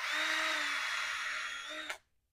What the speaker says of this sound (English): Now we've deburred both sides of that hole with one swipe of the drill.